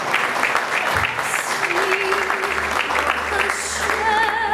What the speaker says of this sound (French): Mettez-vous debout pour applaudir la présence.